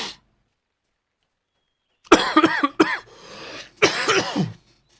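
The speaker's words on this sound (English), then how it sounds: "I'm coughing a lot" A person at a computer microphone coughs in two loud, close bursts of several harsh hacks each, after a long silence, with a brief throaty rasp between them.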